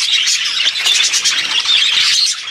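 Pet budgerigars chirp continuously in a busy, overlapping chatter of high, rapid tweets, close and fairly loud with no pauses.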